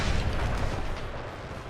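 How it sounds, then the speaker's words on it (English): Artillery fire rumbles through a Napoleon Total War battle in the American Civil War mod at Gettysburg, a dense, continuous low booming barrage of overlapping distant cannon shots that eases slightly toward the end. "And my artillery is starting to focus down this right side."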